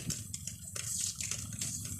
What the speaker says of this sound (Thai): โอ้ย น้ำไหล ช่วมเลย โอ้ น้ำเต็ม